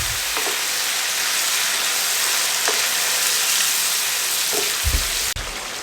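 Chicken pieces fry in a pot over a medium flame, a steady close sizzle running throughout with a few soft stirring knocks and scrapes, no voices.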